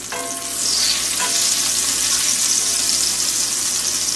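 Green onion whites hit a 12-inch skillet and flare into a loud, dense frying sizzle heard up close, rising in the first half second and then staying even throughout without speech.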